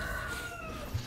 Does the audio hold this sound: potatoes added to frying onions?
no